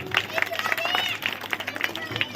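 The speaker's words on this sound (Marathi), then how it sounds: "सर्वांसाठी एकदा जोरात टाळ्या होऊन जाऊ द्या." An audience at a hypnotism show in Kabnur claps in quick, uneven bursts, with a voice talking over the applause.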